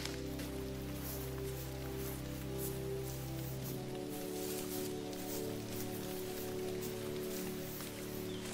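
Steady rain patters across a surface in the video game theHunter: Call of the Wild, a continuous hiss that fills the background with no voices over it.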